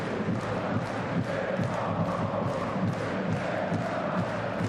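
Dense, constant murmur and roar of a football stadium crowd at Dynamo Dresden versus Borussia Dortmund II, a broad wash of voices with scattered shouts, heard from a distance.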